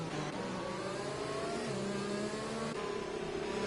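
Formula 2 race cars in a racing video game at the Vietnam circuit roar down the back straight, a steady, continuous high engine whine of several cars at full throttle, with no talking.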